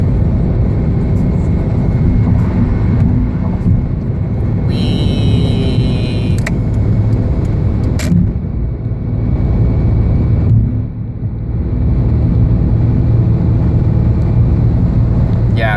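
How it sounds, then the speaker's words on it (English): Steady low engine rumble from inside a Honda Accord accelerating smoothly after a spark plug change with NGK Iridium plugs, a loud continuous drone with a brief dip partway through and no talking. "I feel like I can just accelerate without having the transmission downshift or even unlock the torque converter"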